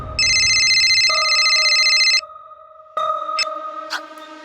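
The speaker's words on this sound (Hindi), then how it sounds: "फिर विक्टिम के फोन से उनके घर वालों को फोन करता है अलग अलग नाम से" An electronic telephone ringtone plays loudly, first as a bright repeating warble, then a steadier tone that pauses briefly and resumes with a few chirps near the end.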